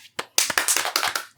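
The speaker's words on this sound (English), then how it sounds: "A round of applause, everyone." A small group gives a quick round of applause: a brief burst of sharp, close hand claps lasting just over a second, with no talking.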